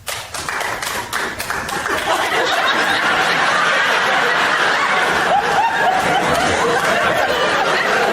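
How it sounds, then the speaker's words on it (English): Comedy show audience breaking into loud, sustained applause mixed with laughter and chuckles, filling the room steadily for several seconds with no speech on top. "If you're Catholic, applaud."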